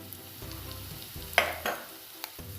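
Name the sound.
spices frying in pan for crab kurma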